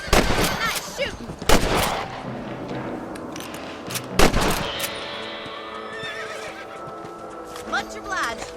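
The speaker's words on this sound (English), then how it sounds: "You're better at shooting rabbits than outlaws, I see." Sharp, loud gunshots fired at rabbits in the Red Dead Redemption video game, a few separate cracks among horse whinnies and hoof clip-clop, with a voice talking in between.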